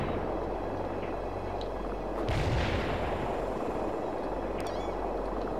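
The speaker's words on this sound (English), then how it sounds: "Bombarding the target area." Artillery bombardment in the real-time strategy game World in Conflict, a dense continuous rumble of distant explosions and gunfire with one heavier booming burst partway through, no speech.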